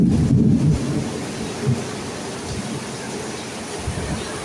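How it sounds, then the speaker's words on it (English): Thunder rumbles low and heavy at the start, then a softer distant roll continues under steady broadband noise, with no speech. "I don't know if y'all just heard that thunder."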